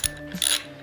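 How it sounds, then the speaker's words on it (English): Socket ratchet snugging a nut on a Stihl FS45 string trimmer, a few quick clicking strokes close up with a short pause between them. "you can wedge your socket on there"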